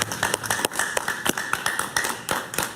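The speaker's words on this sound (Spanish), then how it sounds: "Un aplauso para Ernesto, por favor." A studio audience applauds a Colombian journalist guest on a talk show, a moderate round of fairly sparse, distinct claps from a small crowd.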